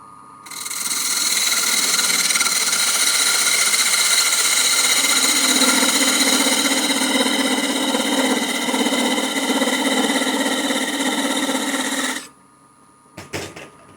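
A wood lathe spins at high speed while a Christmas bell is turned, giving a loud, continuous, steady whine with a deeper tone rising partway through. It cuts off sharply near the end, followed by a few brief knocks.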